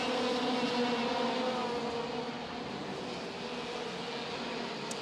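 Racing kart engines buzzing at the WSK Champions Cup OK final, a steady distant high-pitched drone of karts passing on track, fairly faint and continuous.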